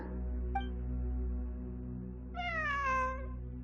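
A cat meows in the Genshin Impact video game, first a short faint call, then one clear, drawn-out meow over a steady low ambient game hum.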